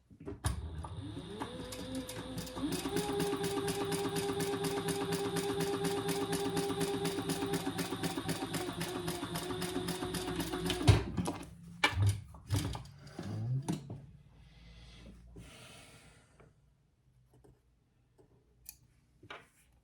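A sewing machine stitches a hobo shoulder bag made of uninterfaced fabric pieces, running steadily and fairly close for about eleven seconds, then stopping, followed by scattered handling clicks and rustles that fade toward quiet.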